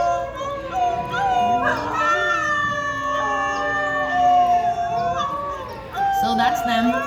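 A recording of New Guinea singing dogs plays their long, sliding, siren-like howls. Several voices overlap in wavering harmonic tones that sound almost whale-like, loud and continuous throughout.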